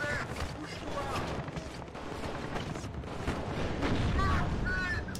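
Machine gun and cannon fire from a French AMX-30 tank in WARNO, rapid crackling shots and heavier thuds scattered over a dense battlefield rumble, with a voice talking over it.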